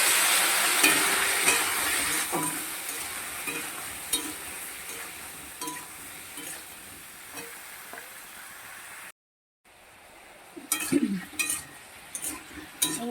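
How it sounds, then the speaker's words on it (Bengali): Hilsa fish curry spices frying in a pan and being stirred with a little water, a steady close sizzle with scraping strokes, a brief dropout, then sharper clinks and bubbling toward the end. "একটু সামান্য নেড়ে চেড়ে নিতে হবে মশলা সঙ্গে মশলাটা যাতে পুড়ে না যায় সামান্য জল দিলাম"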